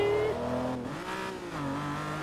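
A 12-cylinder Italian Lamborghini engine in Forza Motorsport 3 revs up and down, its tone climbing, dipping and climbing again in a loud, close, whining howl.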